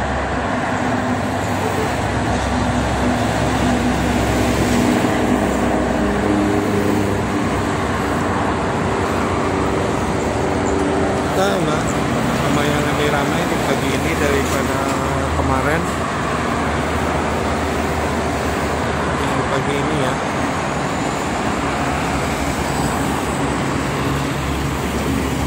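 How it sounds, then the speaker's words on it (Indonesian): Steady, loud roar of mixed traffic on the Jakarta-Cikampek toll road, cargo trucks and private cars passing continuously with no break, a voice talking over the road noise. "kendaraan-kendaraan truk barang ya, sama mobil pribadi."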